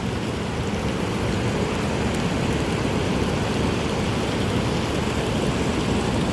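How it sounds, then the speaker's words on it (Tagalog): Heavy rain and strong wind sweeping over a farm field, a dense, constant wash of noise with rumbling wind buffeting underneath, steady and loud with no voices. "Dahil palakas na ng palakas yung ulan at hangin"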